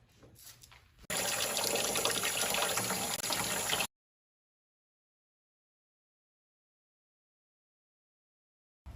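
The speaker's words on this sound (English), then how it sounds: "I'm going to wash them in the water." Snake gourd seeds are washed under running tap water, a loud close rush of splashing water that starts abruptly, runs for about three seconds and stops, followed by silence.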